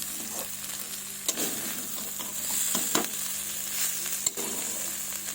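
Winter vegetables fry with a soft, steady sizzle in a pan, broken by a few sharp scrapes and knocks of a spatula lifting the stuck bits from the bottom.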